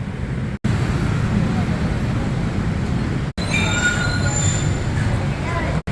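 Elevated train rumbling along the track above a busy Bangkok street, a loud sustained roar with metallic wheel squeal rising in the second half, heard from close below.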